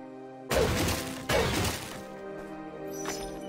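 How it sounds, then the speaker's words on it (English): Wooden barrels shatter in the action RPG Morbid: The Seven Acolytes, two sharp splintering crashes about a second apart ringing out over a steady game music drone, with no voices. "I'm just smashing your barrels."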